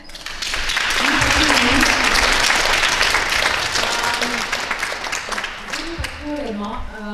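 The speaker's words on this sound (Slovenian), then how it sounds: "prav je, da si še enkrat vsi zaploskate" Sustained applause from an audience at a photography event in Brežice, loud and dense from the start and thinning slightly toward the end, with a few voices heard under the clapping.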